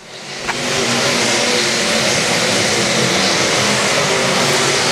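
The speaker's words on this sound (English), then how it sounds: "Ethan Isaacs leads the white flag lap." Race cars roaring around a short oval track on the white-flag final lap, a loud continuous engine drone that swells in early and stays steady throughout.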